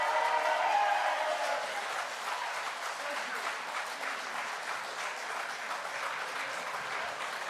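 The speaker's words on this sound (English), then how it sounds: "So that round of applause is going to go for the next 20 seconds." Live audience applause at a London political event, a continuous, even roar of many people clapping, fairly distant and muffled, swelling slightly at the start and then holding steady throughout.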